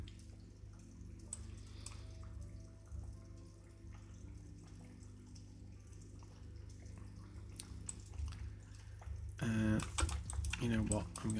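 Computer keyboard keys tapped in scattered clicks while setting up inputs in a starship simulator build, faint under a steady low hum, with a louder burst of clattering keystrokes near the end.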